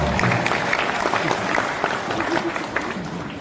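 Audience applause during an Islamic sermon by a preacher, a dense, steady wash of many hands clapping throughout the clip, with murmuring voices mixed in.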